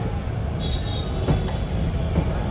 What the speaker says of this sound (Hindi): झंझारपुर से निकलती हुई हमारी ट्रेन